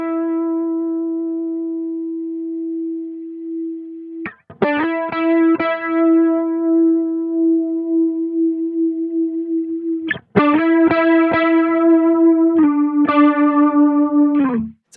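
Harmonized guitar voices from a Multivoicer plugin play stacked, slightly detuned copies of each note in unison, giving a shimmering chorused tone; a held note is followed by bursts of picked notes, clean and loud, with no talk.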